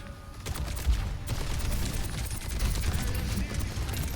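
Soldier's rifle in Overwatch 2 rattles out in a sustained rapid burst that runs for several seconds over busy match noise, with a voice talking faintly underneath.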